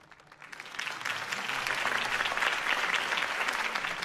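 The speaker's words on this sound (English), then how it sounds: "If only Mr. Wayne, my campaign's largest backer, could have heard that applause" Applause for a campaign speech in a Telltale Batman video game, a steady crowd clapping that swells and holds loud for several seconds with no voices over it.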